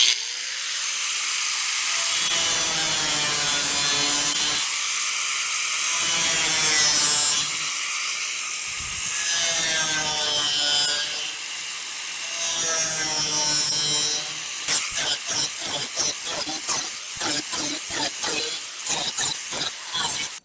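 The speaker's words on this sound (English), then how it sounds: "We got to cut us little pie pieces out so we can bend it over." Metal cutting into the side sheet of a 1965 C10 truck bed to make pie-shaped notches: loud, close, long rasping strokes with pauses, then rapid choppy bursts of cuts, with no voices.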